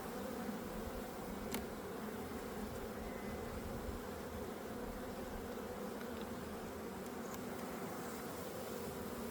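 Honey bees buzz in a dense, continuous drone while a beehive is opened for a mid-spring inspection, steady and moderately faint, with a couple of brief clicks and no speech.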